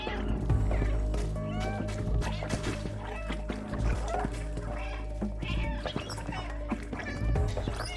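Repeated cat meows from the video game Stray, spammed in quick succession during a speedrun while creatures attack, sounding over busy game music and effects.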